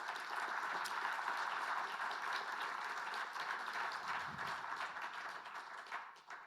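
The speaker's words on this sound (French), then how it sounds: "je souhaiterais qu'on applaudisse très chaleureusement les organisateurs de l'événement" An audience at an Agile conference in Grenoble warmly applauds the event organizers, a dense, even wash of clapping that holds steady throughout and fades slightly at the end.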